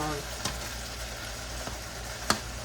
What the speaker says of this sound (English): You just have to keep chopping it because we want it all ground and chopped up